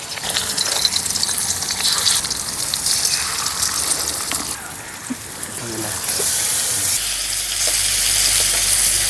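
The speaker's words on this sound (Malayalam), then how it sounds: "ഈ മീൻ വറക്കണ്ടേ?" Fish sizzles and crackles in hot oil in a pan, a continuous close hiss lasting the whole stretch while people talk nearby.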